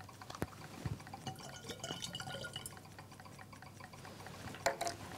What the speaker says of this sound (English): Add the algae.